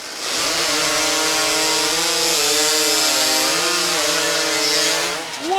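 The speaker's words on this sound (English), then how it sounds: "Final heat of the Hot Saw competition." Hot saw racing chainsaw cutting through a log in the final heat at a STIHL Timbersports Series competition in Menomonie, Wisconsin, a loud, sustained high-revving snarl with shifting pitch as the cut proceeds, close and continuous.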